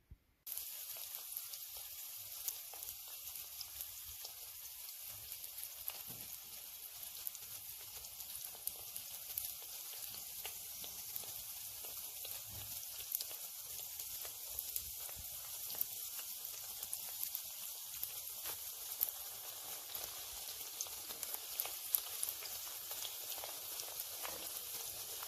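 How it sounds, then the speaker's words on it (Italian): Gnocco fritto dough frying in peanut oil in a pan, a faint, steady, fine sizzle and crackle that continues evenly throughout without pause, with no voices. "Portiamo l'olio alla temperatura di 165 gradi e iniziamo a cuocere i nostri gnocchi fritti."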